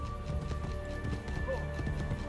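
Rhythmic hoofbeats of a galloping horse in Assassin's Creed Brotherhood thud steadily beneath a continuous tonal hum, fairly loud and close.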